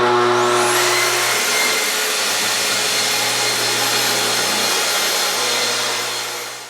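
A track saw whines loudly as it cuts through plywood sheet goods laid over dunnage, a steady high motor scream with a brief rising spin-up at the start, then tapering off at the end.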